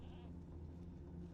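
A red-horned ram mount in the video game Lord of the Rings Online gives a short bleat, faint and brief against a low steady background hum.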